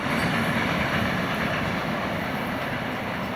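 A Florida East Coast freight train rolls past near Sunbeam Road on its way into Bowden Yard in Jacksonville, a steady, loud, broadband rumble and rush that holds evenly throughout with no voices.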